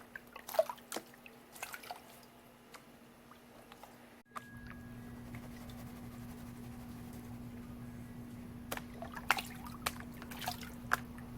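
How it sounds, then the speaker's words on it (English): Water trickling and dripping from a gold pan as light material is washed off, quiet irregular splashes and drips over a steady low background hum. "Let the water do the work."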